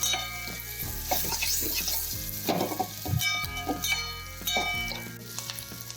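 Grated carrot sautéed with turmeric and salt for gajar no sambharo, a continuous close sizzle broken by repeated spoon stirs and pan scrapes, with no voices.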